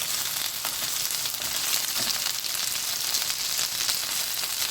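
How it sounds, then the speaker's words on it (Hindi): Chicken frying in a pan gives a loud, steady, dense sizzle with a faint scrape of stirring underneath, close and continuous throughout. "चिकन को अच्छे से फ्राई कर लें"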